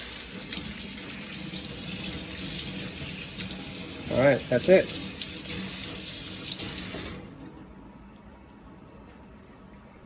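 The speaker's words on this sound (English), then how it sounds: "I'm gonna rinse with the cold water." Cold water runs steadily from a kitchen sink tap while beef is rinsed for a roast, with a brief change in the splashing midway before the flow cuts off abruptly near the end; a voice speaks briefly over it.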